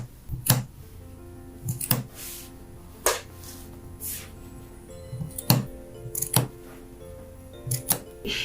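Scissors snip through fabric beside a zipper while sewing a Christmas pillow, producing sharp, separate cuts spaced irregularly, close and crisp against a quiet room.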